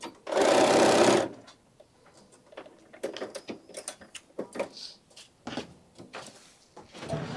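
A Bernina sewing machine stitches through thick, bulky fabric layers and seam allowances, a loud steady whir for about a second near the start, then stops, followed by quieter handling clatter and soft clicks.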